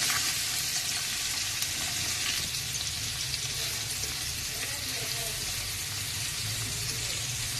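Onion and bay leaf frying in butter in a pan for chicken biryani, a steady close sizzle and crackle that runs throughout, with occasional stirring scrapes.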